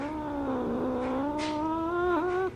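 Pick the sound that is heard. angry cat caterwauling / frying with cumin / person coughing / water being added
angry cat caterwauling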